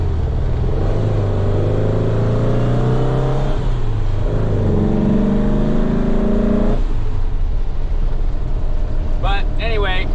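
A 1961 VW Beetle on the road, its engine droning steadily and rising in pitch through several gear pulls, with constant road and wind noise beneath a person talking throughout.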